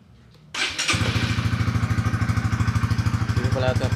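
A Honda Winner X underbone motorcycle engine cranks and catches near the start, then settles into a loud, close, even idle with a rapid regular thump. A voice is heard faintly under it.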